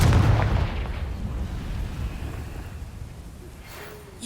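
A Confringo fire spell bursting in Hogwarts Legacy, a loud booming blast at the start that fades into a long, rumbling decay.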